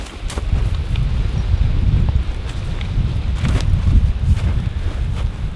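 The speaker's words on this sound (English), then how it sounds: "It's cold and windy and snowy." Cold wind blowing through snowy woods at a Crown Land winter campsite, a loud continuous roar and buffeting rumble with gusty rustling swells, heard alone without talk.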